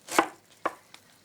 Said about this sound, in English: we're just going to finely chop it